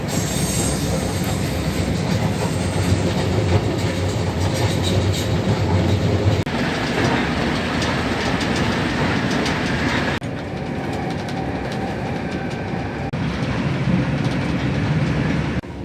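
A Gautrain rides from Rhodesfield to Sandton, with a steady loud interior rumble, wheel squeal and rail clatter throughout, its tone shifting a few times as the train moves along.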